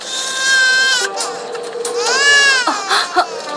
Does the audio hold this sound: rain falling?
no